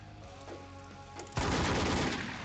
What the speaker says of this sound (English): I hear him shooting already